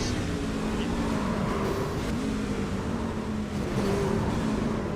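A race car engine in a Talladega sim racing game hums with a steady, droning pitch that rises and falls slightly, heard under a commentator's talk.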